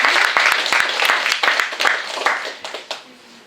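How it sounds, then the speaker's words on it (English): An audience applauds presenting groups at a final presentation event, a dense crowd of claps that swells and dips before thinning out to a few scattered claps near the end. "can you applause for the groups that are now going to present?"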